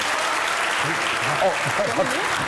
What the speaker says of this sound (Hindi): ख़वातीन हज़रात, आपकी भरपूर तालियों में डायरेक्टर एंड हिज असिस्टेंट